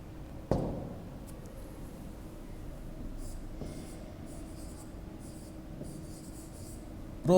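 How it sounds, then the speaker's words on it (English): A teacher writes on a board during a class, a faint continuous scratching of strokes over a low room hum, with a sharp knock at the start. "So, I will just write it down."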